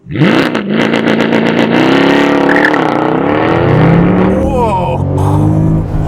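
A Mercedes C63 AMG 507 Edition engine revs hard and accelerates, its pitch climbing and falling through loud, throaty sweeps, with a voice heard partway through.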